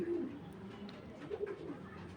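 Racing pigeons coo softly nearby, a nesting pair sitting on eggs, giving a couple of low throaty coos with a faint voice in the background.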